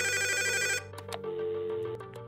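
A cell phone rings with a short electronic ringtone while a call to 911 is placed, the bright tones cutting off after under a second into lower humming tones.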